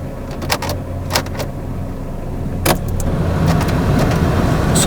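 A 2016 Suzuki Cultus Limited Edition idles steadily after starting, with the air conditioning switched on. A low, even engine hum runs throughout, with a few sharp clicks near the start and a slight rise in loudness toward the end.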